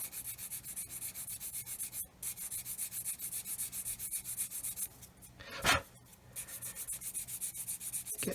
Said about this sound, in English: sand it flat.